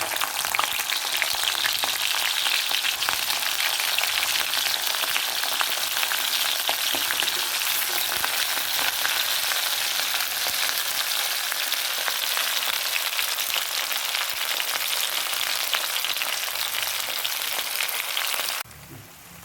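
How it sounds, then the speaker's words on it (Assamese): Onions hit hot oil in a pan and fry with a loud, continuous close-up sizzle, bright and hissing throughout before it suddenly drops away at the very end; no talking. "তেল গৰম হৈছেগৈ, পিঁয়াজটো দিছোঁ।"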